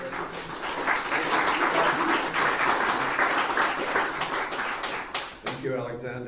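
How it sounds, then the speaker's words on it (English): Audience applause for a presenter at a talk on residential ventilation airflow, dense steady clapping filling most of the stretch before thinning out near the end, with voices mixed in. "Let's give a big PH Mass round of applause for Dr."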